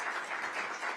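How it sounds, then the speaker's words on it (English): Steady applause from an audience at a press conference on House Bill 137, an even wash of clapping sustained through the whole moment without a break. "please give a round of applause to these great speakers today."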